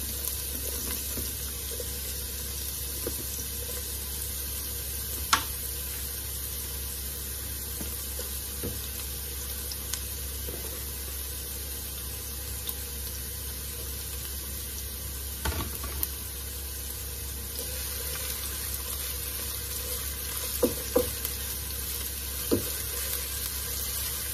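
Plenty of chopped onions sizzle steadily in a pan while being sautéed for a home-cooked Pata Tim, a continuous frying hiss with a few faint clinks of stirring, no talk.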